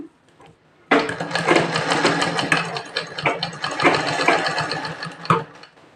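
A sewing machine stitching a prince-cut blouse starts up after a short quiet moment. It then runs in a loud, close, continuous mechanical whir with a rapid rhythmic needle chatter and slight speed changes, and no talking.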